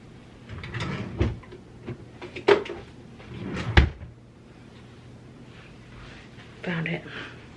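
Wooden drawers and cupboard doors in a tween's bedroom slide and bump shut in a few sharp knocks spread across several seconds, with someone talking intermittently between them.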